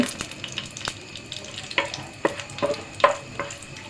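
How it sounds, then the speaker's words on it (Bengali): Dried red chillies frying in hot oil for a spinach stir-fry, giving a steady close crackle with sharp spoon scrapes and pops scattered across it, no talking. "শুকনো মরিচগুলো আমি এখন ভেজে নিব"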